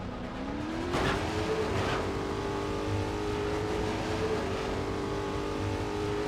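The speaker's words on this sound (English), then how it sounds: "Wanted to get in the car." Car driving in the LEGO Batman video game, a steady engine drone with a rising rev and brief tire-squeal streaks, continuous and fairly loud throughout with no talking.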